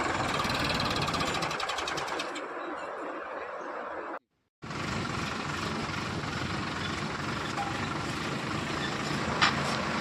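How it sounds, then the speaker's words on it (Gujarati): A farm tractor engine runs steadily close by, pulling a seed-sowing implement through a Gujarati farm field, with a continuous loud rumble that cuts out for a moment before resuming. "આ ટ્રેક્ટર છે"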